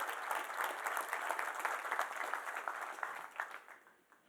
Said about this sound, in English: And Cape Fear Development deserves a round of applause